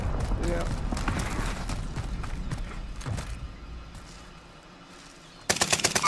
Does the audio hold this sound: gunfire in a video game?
yes